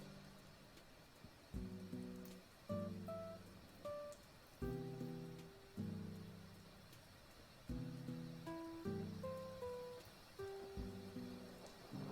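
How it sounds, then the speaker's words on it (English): Soft steady rain ambience runs under Animal Crossing game music with its repeating melodic notes and chords, at moderate level with no talk. "I have Animal Crossing music playing in the background with like rain and thunders mixed in"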